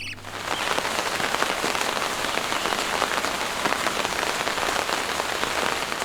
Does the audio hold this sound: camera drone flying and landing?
no